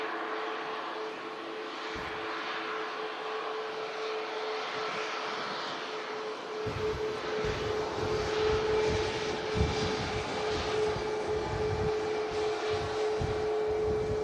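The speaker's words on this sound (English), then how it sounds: "Ryanair Max 8200 out to Tenerife. Passing in front." A Ryanair 737 MAX 8200 jet airliner departs from Manchester Airport and passes in front, a steady broad engine roar with a low rumble that swells in the second half, distant and moderately loud.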